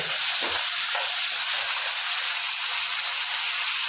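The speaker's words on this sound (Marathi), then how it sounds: "आता याला तेलामध्ये मस्त ब्राऊन कलर होईपर्यंत आता मस्त फ्राय करून घेऊया" Ingredients for a mutton gravy fry in hot oil in a pan, giving a steady, close, bright hiss of sizzling that continues without a break.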